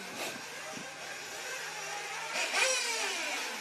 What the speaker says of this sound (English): I can hear the revving.